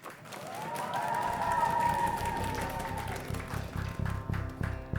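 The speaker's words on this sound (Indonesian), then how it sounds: "Selanjutnya harus disambut dengan tepuk tangan yang lebih meriah lagi" Audience applause and cheering welcome a team onto the podium at a televised school quiz show, swelling after a moment and then fading into scattered clapping that continues to the end.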